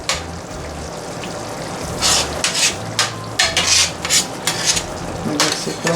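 Spices being stirred into leftover roast lamb pasta in a pan: steady scraping and rubbing of a utensil against the pan over a low sizzle, with louder scrapes in bursts throughout.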